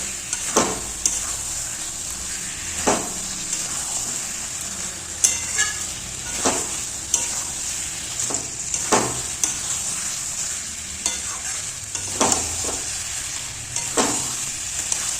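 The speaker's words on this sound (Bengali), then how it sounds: "এবার সুন্দরভাবে আমি মাংসটা কষিয়ে নেব।" Chicken pieces sauté with spices in a pan for a potato chicken curry, giving a steady close sizzle broken by repeated scraping stirs every second or two, with no talking.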